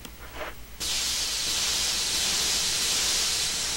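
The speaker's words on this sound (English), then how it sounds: "die, bees! I have the power of raid." Bug spray hissing at bees in the game Resident Evil REmake: after a short quieter lead-in, a loud, continuous airy spray bursts in and holds steady to the end.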